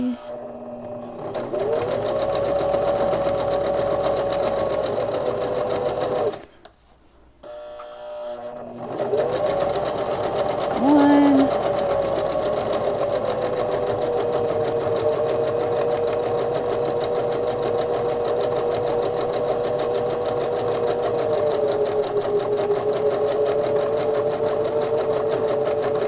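Sewing machine stitching a seam on a Kindle sleeve, a close steady whirring hum that stops briefly for a reverse back stitch, then runs on evenly for a long stretch.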